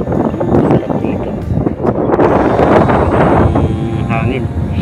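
Wind gusting across a lake near the town of Binangonan, buffeting the microphone with low rumbling bursts while people talk nearby.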